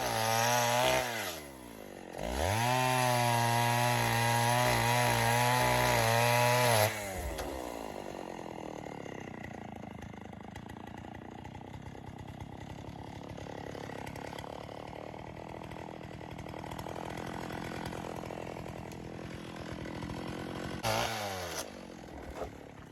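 A vintage STIHL 08S chainsaw cuts into an ash tree for firewood, loud and close, revving hard in the first seven seconds and then settling into a steadier, quieter idling drone that swells briefly near the end.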